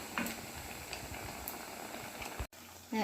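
Rava and coconut snack balls deep-frying in hot oil until brown, a steady close fizz and crackle of bubbling oil that runs almost throughout with a brief break near the end, no voice.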